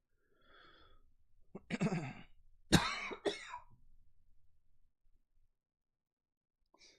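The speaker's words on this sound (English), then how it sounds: "Sorry about the coughing, guys." A person coughs and clears their throat in a short cluster of harsh, close bursts, with a fainter throaty rasp at the start and a small sound after a quiet pause.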